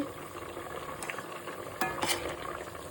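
Chopped onion fries in oil as it is stirred, a soft, close sizzle with a few scraping clicks from the spoon against the pan, fairly faint and without talk.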